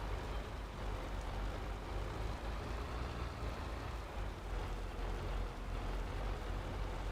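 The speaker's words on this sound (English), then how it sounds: "I've never heard a tractor actually like failing like that before." A Farming Simulator 22 tractor engine runs rough and faltering, a steady low rumbling drone that carries on without a break and without talk.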